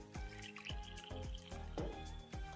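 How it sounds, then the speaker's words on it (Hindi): Water is poured into a bowl of gram flour batter, giving a run of about five distinct wet plops and drips at an even rhythm, close and fairly soft. "जिस बर्तन से आपने बेसन लिया है उसी से आपको भर के पानी डाल देना है"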